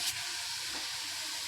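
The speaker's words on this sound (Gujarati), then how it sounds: "કઢી લાલ થઈ ગઈ એટલે હવે હિંગ નાખી અને શાક વઘારી નાખી" Asafoetida and vegetables dropped into hot oil for a vegetable curry tempering, giving a steady close sizzle and hiss through the moment, ending in a sharp brief crackle.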